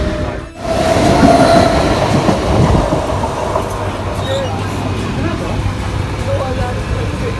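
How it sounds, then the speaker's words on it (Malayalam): A Mumbai local train on the Wadala line rumbles along steadily toward Kurla station, its carriage rattling and clattering, with faint background voices over the continuous motion. "വഡാല ട്രെയിനിൽ കയറിയിട്ടുണ്ട്"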